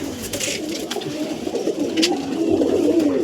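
Andhra pigeons kept for sale coo nearby in low, throaty, bubbling calls that overlap and swell toward the end.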